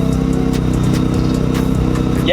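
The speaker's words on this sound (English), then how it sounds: "for those of you who are about to point it out, we do have a small exhaust leak" A car engine idles steadily and loudly with a rough, throbbing pulse from a small exhaust leak at a worn gasket, a continuous close drone running the whole time, with no talking.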